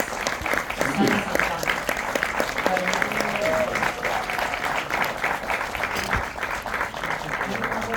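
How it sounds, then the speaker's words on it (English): A crowd applauds steadily with dense clapping throughout, fairly loud and sustained, with a few voices and cheers mixed in. "welcome with an applause Rodrigo Prieto"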